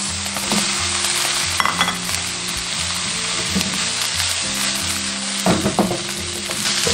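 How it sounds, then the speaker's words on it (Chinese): Pickled mustard greens and cabbage stir-fried in a wok with oil, garlic slices and scallion whites, giving a steady loud sizzle with scraping and tossing from the spatula throughout. "下入酸菜，炒出香味后下入包菜"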